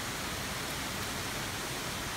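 Heavy monsoon rain pouring down in a Singapore park, water running down the steps; a dense, steady broadband hiss that fills the whole clip, close and continuous with no voices.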